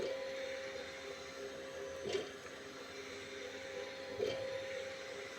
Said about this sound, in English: sometimes it makes weird sounds. Maybe it's rubbing against the plastic.